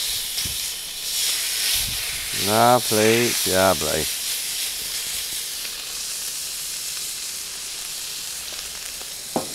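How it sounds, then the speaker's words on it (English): Skirt steak sizzles loudly and steadily on a hot Pit Boss griddle, a constant close hiss, with someone speaking briefly over it midway. "Listen for the sizzle."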